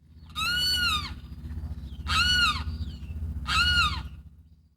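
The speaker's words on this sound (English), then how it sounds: "wildlife such as this limpkin, a large shy bird easily identified by its distinctive call" A large shy limpkin in Florida's Everglades gives three loud, wailing calls in a regular series, each strongly harmonic and descending at the end, set against a steady low rumble of background noise.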